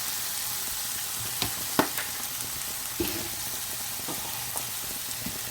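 Water poured into a pan of frying chili, giving a steady broadband sizzle with a few sharp pops and spatters, close and continuous throughout.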